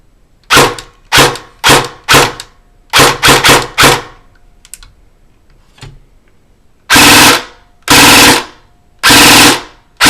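An airsoft gun without a MOSFET fires several short full-auto bursts in a stuttering rhythm, then three longer sustained bursts near the end, loud and close with no talking.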